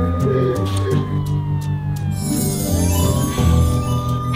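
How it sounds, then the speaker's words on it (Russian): A loud wailing siren sweeps down and then back up in pitch, continuous and close, over a rumbling engine-like background. "Выключите эту дурацкую сирену!"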